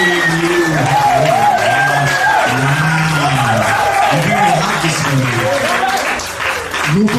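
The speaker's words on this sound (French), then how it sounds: "Assemblée, on applaudit, mesdames." A congregation claps loudly and continuously while voices cheer, whoop and chant over the applause, and the full sound of the crowd stays up close until it eases slightly near the end.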